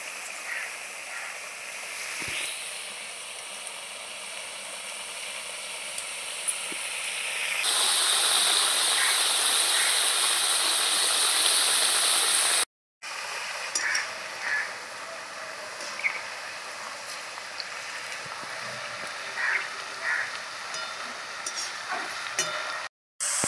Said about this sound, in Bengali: দেখুন আলু থেকে কত বুদবুদ উঠছে।